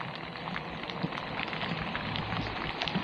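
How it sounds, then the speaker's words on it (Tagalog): Rain grows heavier on a city route while a motorcycle delivery rider travels, a steady dense hiss of drops striking surfaces, fairly faint and continuous with no talking. "Ayan, lumalakas na mga master ang ulan."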